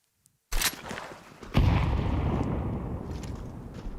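A Counter-Strike gun round erupts with a sudden loud burst of gunfire, followed by a sustained dense roar of overlapping shots and explosions that carries on steadily.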